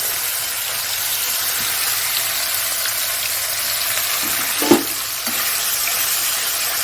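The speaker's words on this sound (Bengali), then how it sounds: "আমুদিগুলো ভাজা হোক" Amudi fish frying in a frying pan, with a constant broad hiss of hot oil running throughout and a single brief clatter near the middle.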